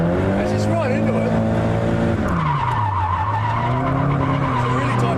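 A car drifts at Nikko Circuit with Shino driving, its engine droning and tires squealing continuously through a tight corner, loud and close with the pitch sweeping as the revs change.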